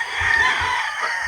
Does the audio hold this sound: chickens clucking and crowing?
yes